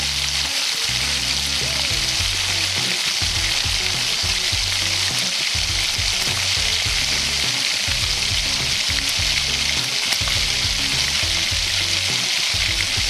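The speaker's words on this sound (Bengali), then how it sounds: "আলুগুলো সব ছেড়ে দেওয়ার পর আমি ভালো করে নাড়াচাড়া করে" Potatoes for aloo dum sizzle steadily in hot oil in a pan, with repeated low scraping and clattering as they are stirred, close and continuous without any talking.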